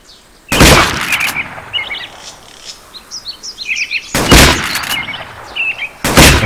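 Shotgun blasts in the hunting video game Cabela's The Hunt, three loud close booms spaced over several seconds, with bird chirps and calls scattered between the shots.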